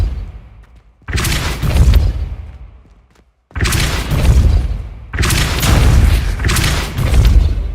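Spell blasts in Hogwarts Legacy come as loud, booming magical bursts, three heavy whooshing impacts several seconds apart, each decaying before the next, with no voices.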